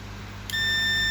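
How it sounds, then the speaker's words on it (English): During a laptop repair on a 19V short circuit, a steady electronic beep starts about halfway through and holds as a continuous tone over a faint background hum. "See the beep."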